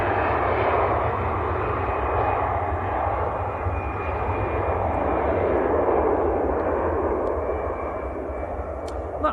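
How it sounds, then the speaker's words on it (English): An EasyJet airliner departs Manchester Airport bound for Gibraltar, its engines a loud, steady roar throughout with no talk over it. "That was EasyJet to Gibraltar."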